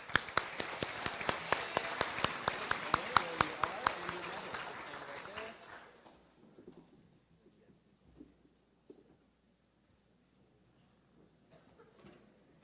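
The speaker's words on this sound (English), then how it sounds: "Give them all a round of applause." An audience at the 2019 Kansas FFA state career development event results applauds the award winners: a dense burst of clapping for about five seconds that thins into a few scattered claps before fading to quiet.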